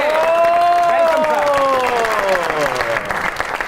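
A studio audience on a Pakistani comedy talk show applauds to welcome guest Ajmal Cheema, loud sustained clapping with some cheering, while a host's voice carries over it throughout.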